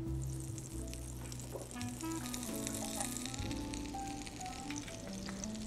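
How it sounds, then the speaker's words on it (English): Chopped onions sizzle steadily in a pan with butter and olive oil, a close, continuous crackling fry with faint clinks and stirring underneath, no voices. "I'm just going to stick these in the pan with the butter and add a little bit of olive oil as well."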